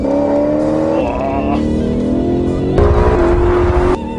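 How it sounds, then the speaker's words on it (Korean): A Maserati Quattroporte Sport GTS engine revs loudly and close, its pitch climbing and shifting through several gear-like steps, with a deep surge of throttle near the end. "꽈트로포르테 스포츠 GTS는 소리에 굉장히 욕심을 낸 차인데 저는 이 소리가 미칠 것 같습니다."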